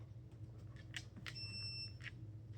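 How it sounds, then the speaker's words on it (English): A single short electronic beep from a training collar sounds faintly in a quiet room, with a few soft clicks and rustles around it. "the beep of the collar is supposed to be substituted for our recall command"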